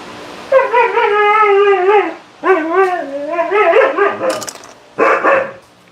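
A dog nearby gives long, wavering howls and drawn-out yowling barks in a few loud bursts separated by short pauses, alone without talk, ending with a shorter whining yip.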